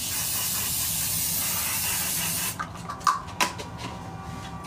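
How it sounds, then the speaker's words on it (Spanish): A hairspray can hisses in a long steady spray onto hair, close and loud, then cuts off, followed by a few faint clicks and handling sounds. "me voy a echar un poco de laca al pelo"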